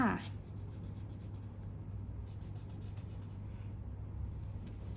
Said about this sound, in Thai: เดี๋ยวเราไประบายสีพร้อมกันเลยค่ะ